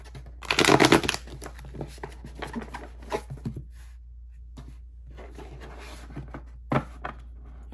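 Tarot cards being riffled and shuffled close by, a loud burst of flicking followed by softer shuffling and tapping, with a brief riffle near the end.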